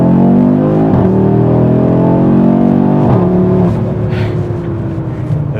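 A 2024 8Y Audi RS3 with dual-clutch transmission accelerates hard, its loud, close exhaust note rising steadily through a couple of quick gear shifts before easing off.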